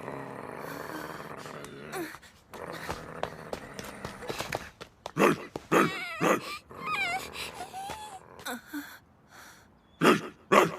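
A dog called Ronko whimpers and yips in short bursts among scuffling footsteps, with a few louder yelps and sharp sounds breaking in toward the end amid a tense scary-movie scene.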